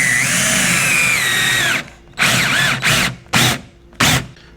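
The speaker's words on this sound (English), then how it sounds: "I'm going to drill this now." A power drill fitted with a stop collar pre-drills a cabinet for screws, one long whining run followed by four short bursts with pauses between, loud and close.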